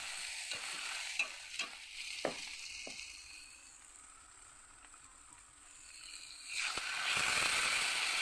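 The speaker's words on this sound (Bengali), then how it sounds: "একটু গরম মশলা দিয়ে একটু নেড়ে চেড়ে নেব" Garam masala stirred through a dish of jackfruit frying in a pan, with a soft sizzle under several sharp utensil scrapes and knocks that ease off before the frying swells louder again.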